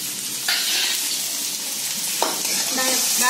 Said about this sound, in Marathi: डाळ फ्राय करून तेलात भाजते.